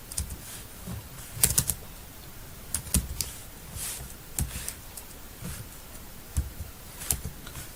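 Computer keyboard typing heard close and fairly quiet, irregular bursts of clicky keystrokes with short pauses between runs, no voices.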